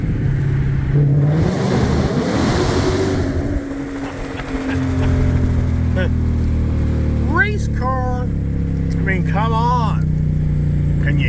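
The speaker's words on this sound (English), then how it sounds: "And here's a little exhaust for you in the here you go." A Ford GT500 sits at a dealership as its exhaust revs loudly close by, the engine rising and falling through several throttle blips before settling to a rumbling idle, with people talking over it.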